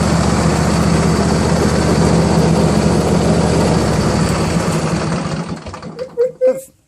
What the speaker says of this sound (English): this Intech Twin 24 is one of the smoothest engines I've ever owned